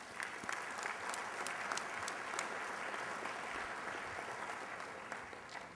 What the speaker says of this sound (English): Let's give all our speakers and moderators a round of applause for this morning's work.